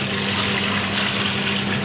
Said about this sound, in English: Just going to pour some water in there.